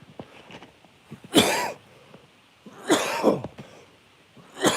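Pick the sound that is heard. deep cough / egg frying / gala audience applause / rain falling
deep cough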